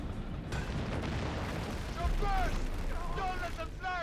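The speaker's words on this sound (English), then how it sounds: "Oh, they're hitting me with artillery." Booms from artillery fire in the video game Company of Heroes 3 land amid a busy, rumbling battle soundscape, with a louder blast about halfway through and people talking over the top.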